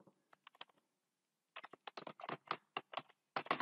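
Code being typed on a computer keyboard, a few light taps, a short pause, then a quicker run of close keystrokes in a quiet room.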